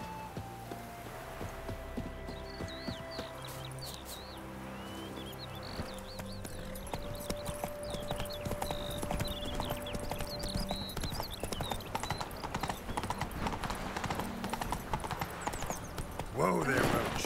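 Roach, the horse in The Witcher 3, trots along with a steady clip-clop of hooves that grows denser and louder as the ride goes on, mixed with game music and spoken voices.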